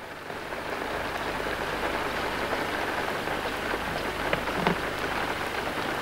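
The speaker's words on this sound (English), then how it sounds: "Off Paul and Warren, standing by the canal in the heavy rain." Heavy rain pours down beside a canal filled nearly to the brim during a flood, a loud, dense, unbroken hiss of drops with a few sharper spatters near the end and no voices.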